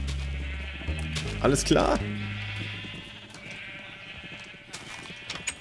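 Sheep bleat in a short burst early on in Minecraft, loud and close, then fade as a person speaks over a soft background drone.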